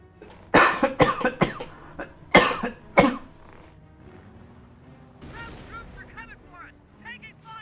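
Mortar fire in the Company of Heroes video game, with several loud, sharp blasts clustered early on and more scattered thuds after, followed by quieter battlefield noise and faint chirping.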